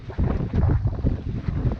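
Strong wind buffets the microphone on a sailboat, a loud, close, continuous rumbling gust that lasts the whole short moment with no other clear sounds.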